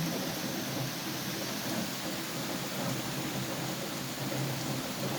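Heavy autumn rain pours steadily outside an apartment, a dense continuous hiss of drops with low rumbling beneath, loud and uninterrupted with no voices.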